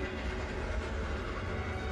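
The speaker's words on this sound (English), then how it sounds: "The train is coming." An approaching train in the animated film The Iron Giant, a loud continuous low rumble of rolling rail noise with steady mechanical rattle and no pause throughout.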